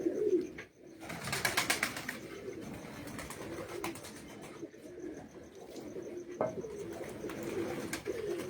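Pigeons coo softly from a rooftop in low, rumbling calls, with a burst of wing flutter near the start and light outdoor background noise. Nobody speaks.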